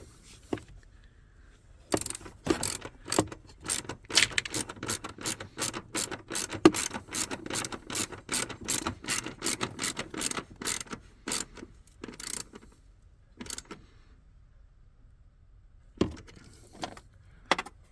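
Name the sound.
ratchet tightening car battery terminal, Mercedes GLK 250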